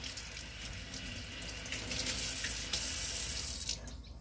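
Running tap water rinses sprouts in a homemade sprouting jar, a steady splashing hiss that swells slightly partway through before easing off.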